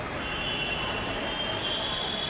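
A train at Petpeda railway station near Mumbai, a steady rumbling roar with a thin high wheel squeal running through it, continuous and moderately loud, with no voices.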